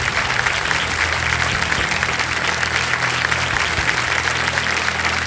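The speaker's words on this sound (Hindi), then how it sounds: "तालियां बज जाएं इनके लिए" A studio audience on the KBC game show (Kaun Banega Crorepati) breaks into steady, dense applause that fills the room loudly and evenly from start to finish, with no voices standing out.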